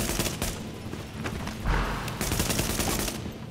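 Enemy gunfire in The Division rattles in dense, sustained bursts of shots, fairly loud and continuous, with a heavier thump partway through.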